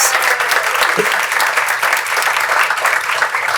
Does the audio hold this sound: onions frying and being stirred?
no